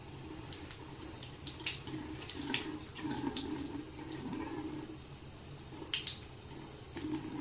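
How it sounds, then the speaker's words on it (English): Water running from a bathroom tap while a makeup puff is rinsed under it, a steady splashing flow with small drips and squishing, fairly quiet and close. "And then I'm going to try and rinse it off."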